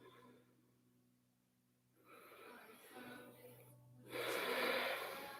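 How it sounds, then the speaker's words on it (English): Slow, quiet breaths drawn in a seated yoga position, soft and faint, with a fuller, more audible inhale building toward the end. "just close your eyes and start breathing"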